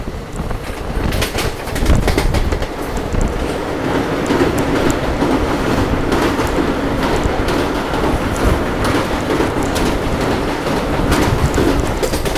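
The Sealdah–Agartala Kanchanjungha Express rumbles past Kopai station, a loud, continuous roar of wheels on track with rhythmic clickety-clack and rattling carriages heard from on board, faint birdsong slipping through.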